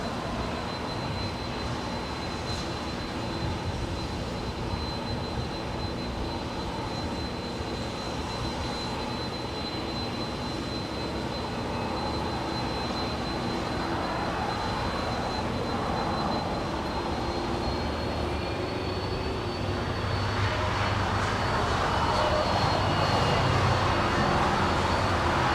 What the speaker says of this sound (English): it's Qantas A330 heading to Brisbane, Flight 56, starting her taxi